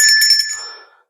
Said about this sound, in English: as you can hear it, placing the bell down there.